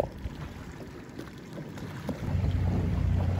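An Optimist sailing dinghy moves through lake water in wind during a youth regatta race, giving a steady rush of water and wind buffeting the microphone that swells louder toward the end, with no talking.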